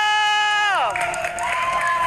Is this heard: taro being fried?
no